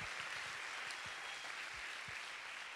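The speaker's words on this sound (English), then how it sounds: "So can we have a round of applause for those 2" A large conference audience at a Fall CUE 2014 opening session claps together, a steady even patter of many hands heard from a distance, quiet and sustained without voices.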